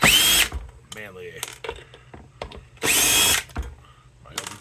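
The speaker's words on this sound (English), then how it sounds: "Use my overkill drill here, because it's manly." A power drill removes fasteners from a power inverter board, with two loud, close, high-pitched whirring bursts of about half a second each and faint clicks and handling noises between them. Someone talks briefly during the gaps.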